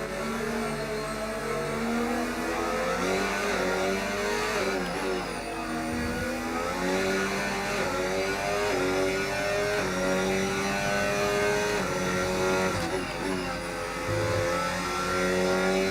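A race car engine in a racing video game runs loud and constant, revving up through repeated gear shifts with stepped pitch rises and brief dips, mostly alone.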